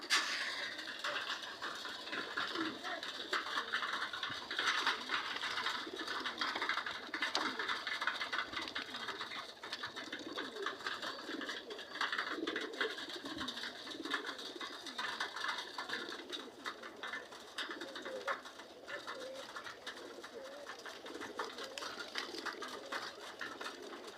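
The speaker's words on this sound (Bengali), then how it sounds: "এই যে একটা কবুতর" Pigeons newly released at a home loft coo softly and repeatedly over a steady mechanical whir, faint and close, with no talk.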